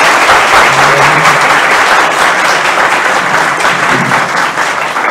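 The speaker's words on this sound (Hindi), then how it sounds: "सर के लिए और उनकी टीम के लिए जोरदार तालियां" Loud, close applause fills a room at a financial literacy and investor awareness session, many people clapping steadily for the speaker and his team with no talk over it.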